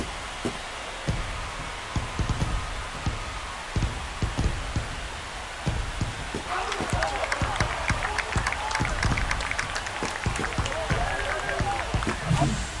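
A home crowd cheers after a home run in the MLB The Show 25 baseball video game, a broad roar that builds halfway through and stays loud beneath ongoing commentary.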